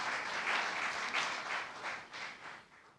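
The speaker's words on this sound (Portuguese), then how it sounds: "Pode aplaudir o Senhor." A church congregation applauds, a dense, steady wash of many hands clapping that swells and slowly eases over a few seconds.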